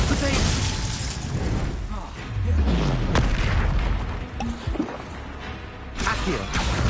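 Confringo blasting spells explode in Hogwarts Legacy, loud booming and shattering bursts repeating through the clip amid constant game noise and spell casting, with a voice present throughout.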